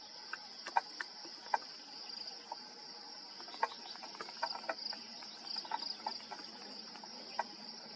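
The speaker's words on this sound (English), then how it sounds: "there's a lot of bugs here" Insects chirp steadily in a spring forest, a continuous high shrill drone with scattered sharper chirps and clicks close by, and no voices.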